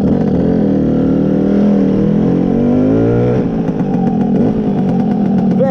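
Lambretta BGM V4 Sport Clubman scooter engine revs loudly and close, pitch climbing and falling through steady pulls while riding, with no talking.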